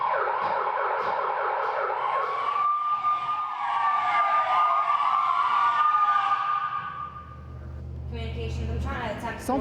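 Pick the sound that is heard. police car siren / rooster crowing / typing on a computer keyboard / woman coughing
police car siren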